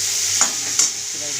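Masala paste for a prawn curry with potato sautéing in a pan, a steady close sizzle with two brief scraping stirs.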